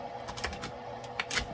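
A knife chops through the ends of fresh chives on a cutting board, a quick run of close, crisp taps in an uneven rhythm.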